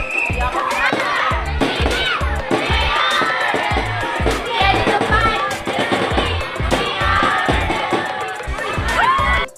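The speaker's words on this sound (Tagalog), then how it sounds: "pakinggan natin yung yell ng mga bata" Schoolchildren shout a rhythmic team yell together at a school intramurals event, a loud crowd of young voices chanting in steady beats with drum-like thumps underneath.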